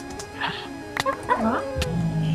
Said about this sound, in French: Ah, c'est mon chien.